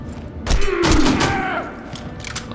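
A rocket explosion in the World War II shooter Enemy Front lands as a loud, booming thud with a crackling burst, followed by a falling whine and fading rumble, all within a couple of seconds.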